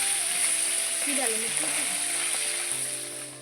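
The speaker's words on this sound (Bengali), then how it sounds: "দেখো আমাদের খয়রা মাছ ভাজা হবে আর এই যে পিটি খিচুড়ি বসেছি" Khoira fish frying in a pan, giving a constant bright sizzle that runs throughout and fades slightly at the end, with a voice speaking over it.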